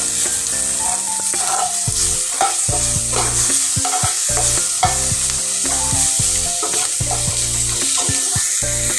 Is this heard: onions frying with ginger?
yes